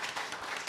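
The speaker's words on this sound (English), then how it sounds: "let's give a round of applause to" A brief burst of applause from a church congregation, dense clapping filling the whole short moment without any voices.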